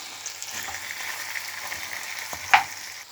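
Frozen vegetables cooking with onions in a pan, a steady close sizzle and hiss, with a sharp utensil scrape near the end.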